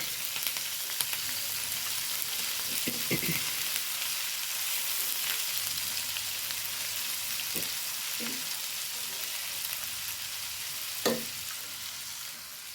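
Green chili and ginger frying in oil in a pan: a soft, steady sizzle throughout, broken by a few light scrapes and knocks of a spoon as they are stirred.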